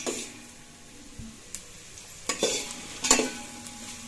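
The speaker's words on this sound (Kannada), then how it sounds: "ಎಣ್ಣೆ ಹಾಕ್ಬಿಟ್ಟು ಸಾಸಿವೆ ಹಾಕಿ ಹಸಿಮೆಣಸಿನಕಾಯಿ ಹಾಕಿ ಈರುಳ್ಳಿ ಹಾಕಿದ್ದೀನಿ" Sliced onions frying in hot oil with mustard seeds and green chillies, a steady close sizzle with occasional stirring scrapes and a few sharp pops building toward the end.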